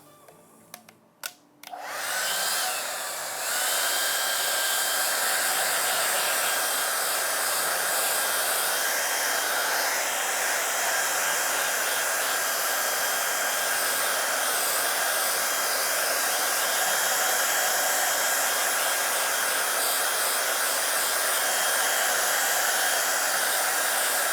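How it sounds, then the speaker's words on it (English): A hair dryer switches on after a few handling clicks and blows steadily and loudly at close range, drying yellow screen-printing ink on a stencil screen. It keeps a constant whoosh for over twenty seconds. "so now we're ready to hair dry the yellow, and so it will be ready for our next colour"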